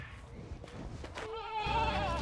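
Goats bleat at lunchtime while being fed grass and hay, a wavering bleat rising clearly after a second of quiet rustling ambience, close and moderately loud.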